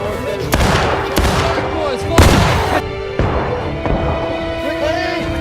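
Volleys of gunfire boom and crack through a war video game battle, with repeated heavy shots and lingering rumble amid shouted battle commands and noisy combat ambience.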